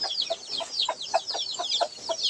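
Chickens on a rural farm cluck in a steady series of about nine short, evenly spaced calls, with fainter high bird chatter running underneath throughout.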